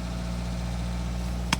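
A Toyota 5E-FHE engine in a Toyota Sera idles steadily after its air control valve was cleaned, a low, even hum held throughout with one brief click near the end.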